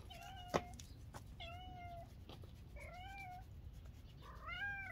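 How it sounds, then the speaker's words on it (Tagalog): A cat meows several times in rising and falling cries, fairly close and clear, with a sharp knock early on and a quiet room behind. "Oh, pusa yan."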